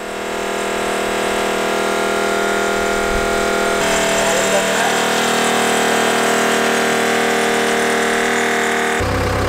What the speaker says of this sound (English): Shutting the pump off.